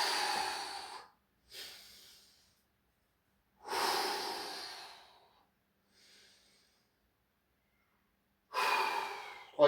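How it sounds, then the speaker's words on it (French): Heavy, ragged breathing after a workout of weighted jump rope, push-ups and squats: several loud, gasping exhales and snorts close to the mic, separated by silent pauses, with a sharp burst at the end. "On respire."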